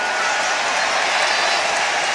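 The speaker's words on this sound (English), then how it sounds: "Listen to the applause" A big K-1 fight crowd applauds in a dense, steady roar of clapping that holds loud and unbroken from start to finish, with no voices rising above it.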